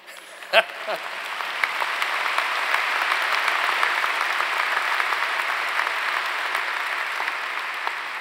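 Audience applause at an undergraduate commencement ceremony: after a sharp knock, broad clapping from a large crowd swells and holds steady, sounding spacious and somewhat distant.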